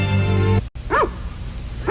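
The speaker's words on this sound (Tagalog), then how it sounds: "Ano pong nangyayari at napakaraming aso?" Hunting dogs gathered at a country mansion before a hunt, heard as a single sharp bark after a stretch of music and a brief silence.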